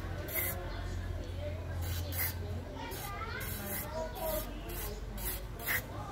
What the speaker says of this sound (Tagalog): Na-spray na natin yung mismong prehab body natin ng lithium white grease